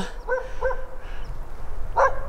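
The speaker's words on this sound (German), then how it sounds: "Also ein Hund ist aber sicher dort, wie ihr gehört." A dog barks a few times at a moderate distance in Creel, Mexico, two quick barks then a louder one, over faint outdoor background noise.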